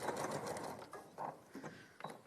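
Sewing machine stitching a slip pocket in quick bursts of rapid mechanical chatter, close and fairly quiet, stopping and starting several times within a couple of seconds.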